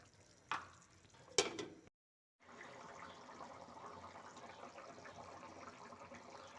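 Tengra fish curry with potato, tomato and bori being stirred in a pan, with a couple of sharp scrapes of the utensil, then a short pause before a steady, fairly quiet sizzle and bubbling carries on.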